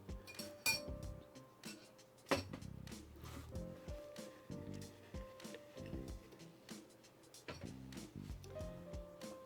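Glass beakers being handled on a work surface while mixing a DIY hair repair oil, giving repeated light clinks and taps at close range with soft handling knocks between them and no talk.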